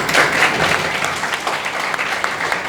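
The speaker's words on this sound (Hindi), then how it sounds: "बिना कहे ताली बजा दिए।" Students burst into lively clapping in a classroom setting, loud at first and then settling into an even, continuous patter.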